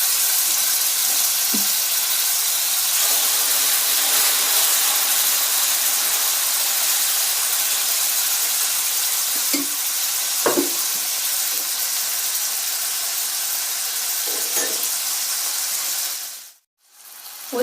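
Tomatoes for a sambar with coconut masala fry in hot oil, giving a steady, close sizzling hiss with a few soft scrapes of stirring, then a brief dip near the end.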